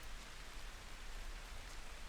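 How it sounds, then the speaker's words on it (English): Steady heavy downpour from a horror visual novel game set around an empty office, a dense even hiss of rain with no breaks, alone and without voices. "The downpour is really beautiful."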